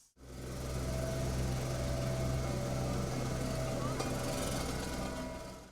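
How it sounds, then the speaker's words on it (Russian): Heavy road machinery is at work laying asphalt on a city street in Sukhumi, a steady, droning engine rumble with a low vibrating hum that holds for several seconds and then fades. "Звук спецтехники не смолкает."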